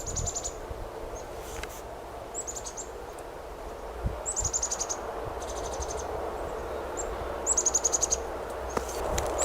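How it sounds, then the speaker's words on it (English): Small songbirds singing outdoors near roads, with short high chirps and quick trilled phrases repeating every second or two over a steady low rumble of distant traffic, fairly faint overall. "I want you to listen to the birds"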